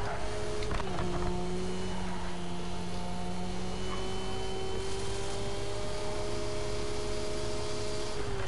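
A race car engine in Project Cars 3 drones at a steady, sustained pitch, with a brief shift early on and then an even hum over a continuous rushing noise.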